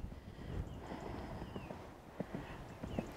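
Hooves of a young horse under saddle, being schooled for four-year-old classes, clop in irregular strides on soft ground, moderately close, with a faint bird-like whistle above a low background rumble.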